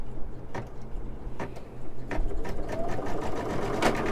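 Embroidery machine stitching a pair of cowboy boots for a 12-inch fashion doll, a close rapid mechanical chatter of needle strikes with rhythmic thumps running throughout, no talking.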